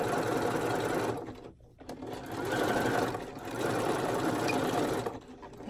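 A sewing machine top-stitches stretched elastic onto fabric, running loud and close in a continuous whirring chatter that dips once briefly before resuming at a steady pace.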